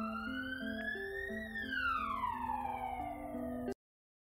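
A wailing ambulance siren sweeps up then glides steadily downward in pitch as it passes, loud and alone, then cuts off abruptly.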